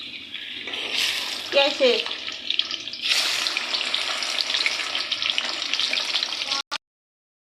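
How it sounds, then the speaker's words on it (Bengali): Pieces of chicken for a roast drop into hot oil and fry with a loud, steady, close hiss that holds for several seconds before stopping abruptly, with a brief voice speaking early on. "আমার তেলটা গরম হয়ে গিয়েছে, এখন আমি এর মধ্যে আমার রোস্টগুলোকে ছেড়ে দিব।"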